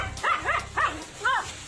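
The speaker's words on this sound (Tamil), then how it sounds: "குடியிருப்புக்குள் புகுந்த பாம்பை தடுத்து நிறுத்தி போராடிய நாய்." A dog that fought off a snake entering a home gives four short yelping barks at a steady pace, close by, over a low background hum.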